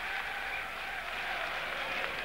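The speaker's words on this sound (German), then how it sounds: "Jubel bei den Fürther Zuschauern" Fürth spectators cheer and applaud a goal against Jena at a football match, a steady, dense crowd roar with clapping that holds at an even level throughout, heard from a distance.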